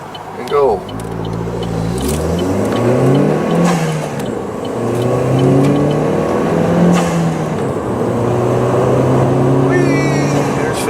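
Small car accelerating through the gears on a smoky, hazy commute, the engine note rising and falling steadily up close with gear changes, someone talking over it.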